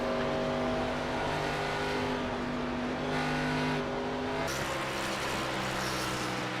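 Race cars in a Superspeedway series pull out of the pits, a continuous loud engine drone with steady tonal whine that shifts pitch midway, dense and unbroken with no voices.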